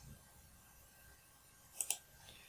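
Two quick, faint computer mouse clicks in close succession during spreadsheet formula work in Excel, sounding alone against a quiet room background.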